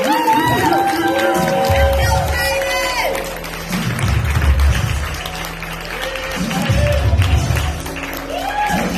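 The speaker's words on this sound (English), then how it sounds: "I want you all to welcome him as I welcomed him by clapping" An audience claps to welcome a speaker onto the stage, a broad wash of applause and crowd noise that rises and falls while people talk and call out over it.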